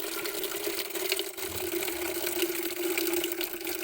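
Water being drawn from a tank tap to mix a chick vaccine, a steady rushing flow with a constant hum, loud and close, with no talking.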